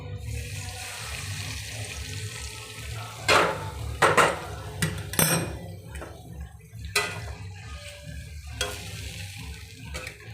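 Hot water poured into fried vegetarian masala that has released its oil, giving steady close sizzling and bubbling, with several louder hissing bursts and stirring scrapes in the middle; no talking.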